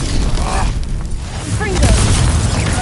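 Fiery Confringo spell blasts in the Hogwarts Legacy game, heavy booming bursts layered with clashing effects and brief voices over a loud, dense combat din.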